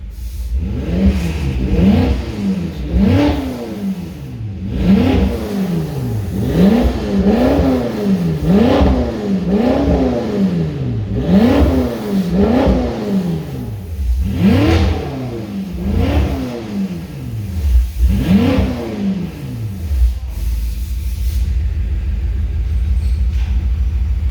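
BMW M5 F10 engine, at 92k km, revved repeatedly while parked: about eight loud, close throttle blips rising and falling in sequence over a steady idle, ending in a settled idle, with no talking.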